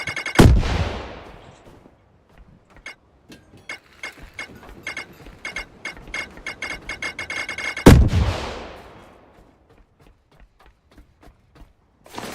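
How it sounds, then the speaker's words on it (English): Grenade explosions in The Last Caretaker: two heavy booms about seven seconds apart, each with a long decaying roar, amid rapid clicking and clattering mechanical bursts, no voices. "I wonder if this grenade will help."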